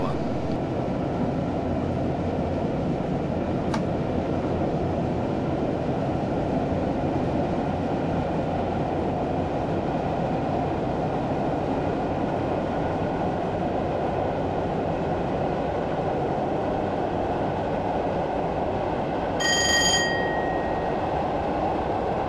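Class 421 electric multiple unit, twelve coaches long, running in Train Simulator 2015 on the Brighton to London Victoria line: a steady, loud rumble of motors and wheels on rail throughout, with a brief bell-like chime near the end.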